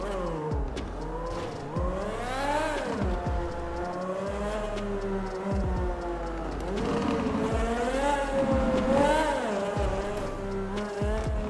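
A tuned car in GTA V's FiveM rolls out of a parking garage, its engine revving up and down in repeated rising and falling sweeps, near and loud, with occasional tire squeal.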